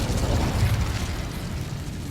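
An Incendio fire spell cast in Hogwarts Legacy on PS4, heard as a loud, sustained fiery roar with rumbling bursts that holds steady for about two seconds, with no talking over it.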